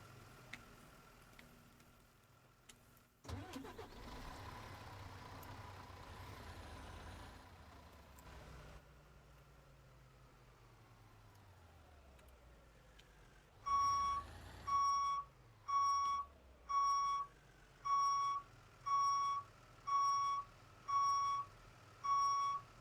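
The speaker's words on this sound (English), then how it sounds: "So we're gonna spawn the hazmat truck." A hazmat truck in a firefighting video game starts with a burst of engine noise that settles into a low idle, then a loud, evenly spaced series of about nine reversing beeps.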